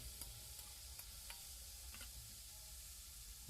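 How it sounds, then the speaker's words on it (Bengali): Boiled vegetables are stirred in a frying pan, with a few soft scrapes of a spatula over a quiet, low sizzle, close but faint. "সিদ্ধ করা এই সবজিগুলো এর মধ্যে দিয়ে ভালো করে নেড়ে নিচ্ছি"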